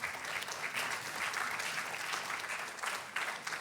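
An audience at a G7 energy side event claps steadily as a panelist is invited onstage, a dense, even patter of many hands heard from a distance at moderate volume.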